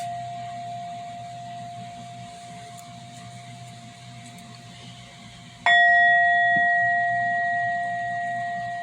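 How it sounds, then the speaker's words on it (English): A bell struck once to clear negative energy rings out with a sharp bright strike, then a sustained shimmering tone that slowly fades, following an earlier faint steady hum. "it's always good to ring a bell, really, to clear out negative energy"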